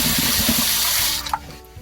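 Sorghum grain is rinsed under running water, a close, full rush of splashing water with grainy swishing that cuts off abruptly, followed by faint dripping and quiet.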